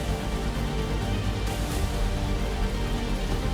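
Heavy downpour over Bengaluru as streets flood: a steady, dense wash of rain noise, loud and continuous throughout with no pauses.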